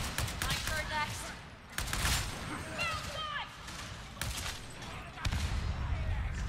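Bolt gun firing in Warhammer 40,000: Darktide, a dense volley of heavy, punchy shots with sharp onsets. The shots come in bursts and repeat throughout, with voices talking over parts of the barrage.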